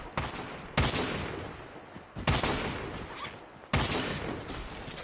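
Three loud gunshots from Call of Duty Mobile ring out about one and a half seconds apart. Each sharp crack fades into a long echoing tail.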